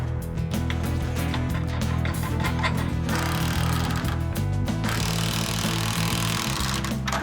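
A power drill chatters in fast, rough mechanical bursts, loud and close, running steadily for several seconds while drilling holes in house framing for joist hangers.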